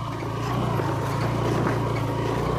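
A motorbike grinds up a rough dirt hill road, its engine a loud, steady, throbbing drone heard close for a couple of seconds with no speech.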